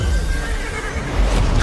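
A horse whinnies in a Viking-themed video game, one long, loud neigh with faint hoof clip-clop under dense, steady game noise.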